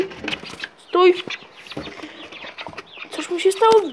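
A rooster with injuries on its head clucks and crows in short, choppy bursts close by, with a person talking over parts of it.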